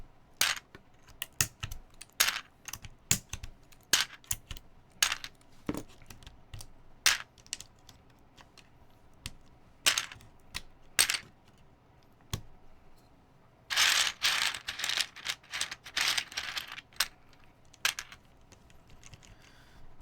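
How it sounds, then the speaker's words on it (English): Keycaps being pulled one by one off a mechanical keyboard during a rebuild: sharp, irregular plastic clicks and snaps, close and fairly loud, with a denser burst of rattling clatter partway through and no talking. "I should maybe also pull off the Freya keycaps as well"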